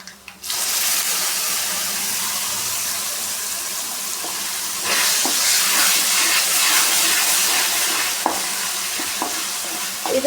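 Ground coconut and mustard masala for rice frying in a hot pan, with a loud continuous sizzle close up and stirring scrapes that grow busier partway through.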